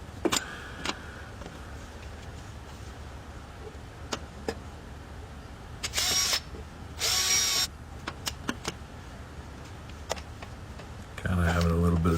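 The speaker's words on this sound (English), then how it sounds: "Pre-drill some holes." A power drill pre-drills holes for self-tapping screws during an HVAC heat exchanger unit replacement, with two short whirring bursts standing out over steady background noise and scattered clicks, then another burst at the end.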